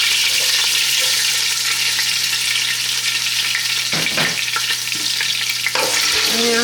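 Sliced onions fry in olive oil with a steady, loud sizzle throughout, broken by a couple of brief stirring scrapes near the end.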